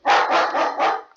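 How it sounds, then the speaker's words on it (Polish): A dog barks loudly and close by, a rapid burst of four harsh barks running together, with no talk. "Przepraszam za psa."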